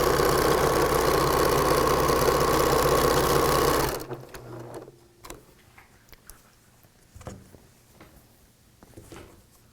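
A sewing machine runs steadily and loudly for about four seconds while stitching the last half seam of a t-shirt quilt, then stops, leaving soft handling clicks and rustles of fabric.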